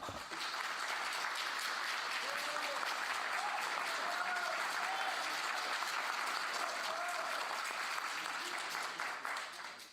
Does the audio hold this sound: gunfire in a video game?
no